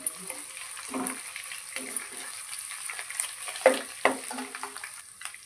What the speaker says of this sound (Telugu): అల్లం వెల్లుల్లి పేస్ట్ పచ్చివాసన పోయే వరకు వేయించుకుందాం